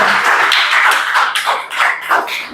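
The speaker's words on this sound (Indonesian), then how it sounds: "Oke, kita beri aplaus dulu dong untuk Gendis." A group applauds for a presenter named Gendis in a classroom or teaching session, with close, loud, dense clapping that swells and dips in quick waves.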